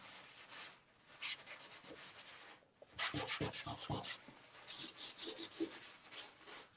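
A paper towel is rubbed and wiped across a painting of a marsh sky, giving soft, close scratchy strokes in irregular bursts with brief pauses.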